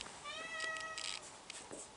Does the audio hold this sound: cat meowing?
yes